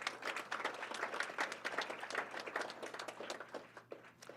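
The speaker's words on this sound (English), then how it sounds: "So if we could have a round of applause for all the winners." A school board meeting audience applauds elementary school award winners, steady dense clapping from many hands filling the room for several seconds with no talking.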